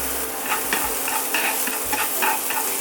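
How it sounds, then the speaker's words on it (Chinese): Shredded ginger dropped into leftover salmon oil in a pan over medium-low heat, giving a continuous bright sizzle with a few sharp spatters and scraping clicks, close and without talk. "把姜丝加进去"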